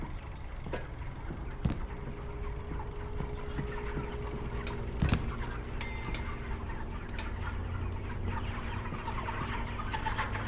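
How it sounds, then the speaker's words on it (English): Chickens cluck faintly in the video game Heliophobia, a soft scattered clucking set against a steady ambient drone, with a brief sharper knock or tick partway through. "That's chicken noises I'm hearing"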